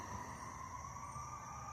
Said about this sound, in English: it's just you hear the sirens in the background